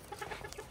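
Soft, quick clucks from a small chicken, several short calls in a row, close by and fairly quiet.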